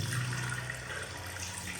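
Grey, glacier-fed water runs steadily from a hotel tap in a mountain valley, a continuous close rushing splash with no talking.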